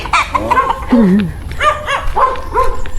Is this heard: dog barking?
yes